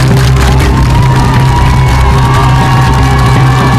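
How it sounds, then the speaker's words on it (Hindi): A crowd of thousands fills a Paris arena for a music show, a dense, loud and continuous wash of cheering, whooping and shouting. "ये तस्वीरें पेरिस के मैदान के अंदर हुए एक म्यूजिकल शो की हैं, जहां पर हजारों लोगों की भीड़ उमड़ी।"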